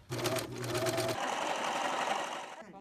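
A sewing machine runs close by as a volunteer team stitches cloth masks, giving a steady fast whirring hum with a brief change in pitch partway through, no talk over it.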